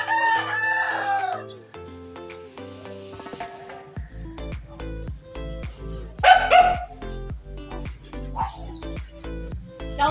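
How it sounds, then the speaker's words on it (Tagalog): A pet dog barks outside at a rural home in Tayug, Pangasinan, with sharp, repeated barks in uneven bursts at close range. A rooster crows loudly near the start, and faint voices and clatter sit in the background. "yung aso namin nandito sa labas. Tahon ng tahon."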